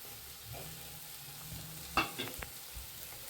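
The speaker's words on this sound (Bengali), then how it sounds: "এবার সুন্দর করে আমি এটা একটু ভাজা ভাজা করে নেবো।" A grated potato and boiled egg mixture fries in a small amount of oil, giving a soft, low sizzle broken by a few short scraping stirs of a spatula partway through.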